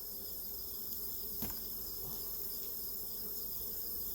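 Honeybees hum steadily around open hives during an autumn inspection before winter, a constant insect drone that holds at an even level for the whole stretch with no talking.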